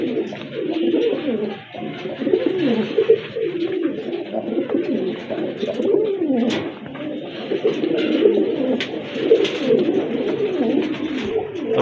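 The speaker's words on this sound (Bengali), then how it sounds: "অবশ্যই ভালো মানের কবুতর, শর্ট ছোটের কবুতর" Pigeons for sale, including a black-faced hen, coo in a continuous low warbling chorus close by, a few faint sharper calls rising now and then.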